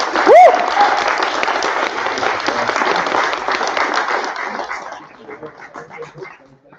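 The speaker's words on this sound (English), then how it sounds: "Please give them a warm round of applause." Audience applause at a panel discussion, a steady wash of clapping with a brief whistle near the start, sustained for about five seconds before thinning out and fading.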